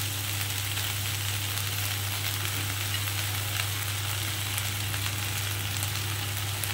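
Corn and onion sizzling in butter in a pan, a steady, even frying hiss with faint stirring scrapes, close and continuous throughout.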